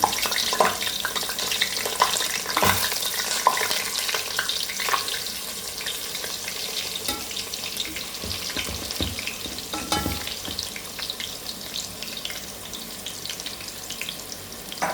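Chicken coated with coriander, turmeric, Kashmiri chilli and salt fries in hot oil, giving a steady close sizzle with scattered pops and crackles and occasional stirring scrapes throughout, with no voices.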